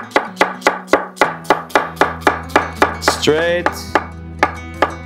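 A knife cuts an onion side to side on a board in a steady series of about fourteen sharp, close chops, with a brief spoken word midway.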